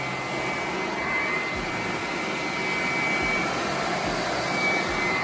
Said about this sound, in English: So this is my dryer.